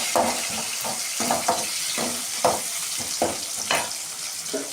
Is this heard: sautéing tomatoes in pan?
yes